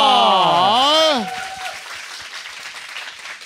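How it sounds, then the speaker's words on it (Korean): A loud sung or drawn-out vocal phrase gives way to steady applause from a studio audience at a Korean talk show, the clapping continuing at moderate volume to the end. "여러분 큰 박수 부탁드리겠습니다."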